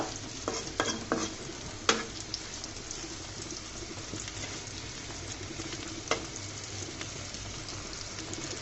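Eggplant slices frying in a pan of oil, a steady sizzle with scraping stirs and a few sharp clinks near the start, close and continuous, no voices.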